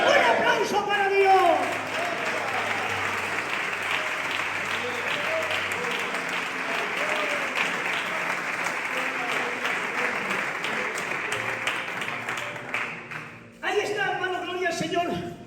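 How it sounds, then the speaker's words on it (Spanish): A church congregation claps loudly and steadily for about thirteen seconds, a dense sustained burst of applause that fades briefly before a shorter round of clapping resumes at the end, with voices mixed in. "¡Un aplauso para Dios!"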